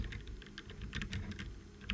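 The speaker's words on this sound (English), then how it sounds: "The switches are very tactile and I rarely bottom out while typing." Typing on a budget mechanical keyboard with unlubed Otemu tactile switches and no O-rings, a quick, fairly quiet run of clacky keystrokes in an uneven rhythm, close up and alone.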